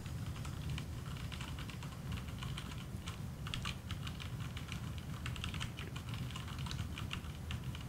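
Rapid, steady typing on a computer keyboard at a PC hardware show, a dense run of close, crisp key clicks lasting the whole stretch with no talking.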